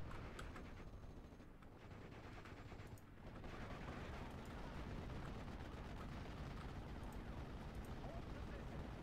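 Artillery fire in the World War II strategy game Steel Division, a faint, continuous rumble of distant blasts and gunfire layered into a dense background roar.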